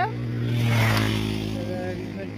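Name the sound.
motorcycle engine starting and revving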